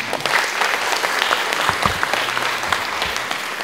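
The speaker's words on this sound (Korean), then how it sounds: "심사위원 여러분께 다시 한번 큰 박수 부탁드립니다" Applause from the audience at the 19th Kyung-Ahm Prize award ceremony, honouring the judges; a brisk burst of clapping, fairly close and even, with no speech over it.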